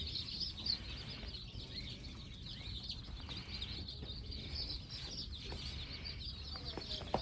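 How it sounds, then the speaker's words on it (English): Chickens clucking softly at a distance, scattered calls over a quiet background hum. "There's chickens in there"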